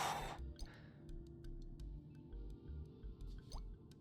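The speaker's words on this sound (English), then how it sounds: "I hate that it drips." Water drips steadily in a House MD video game scene, with crisp, close single drops repeating at an irregular pace over a low rumbling ambience.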